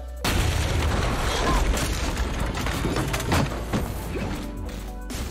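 Several heavy booms and crashes burst out in close succession over a loud, dense rumbling background, some blasts near and others more distant.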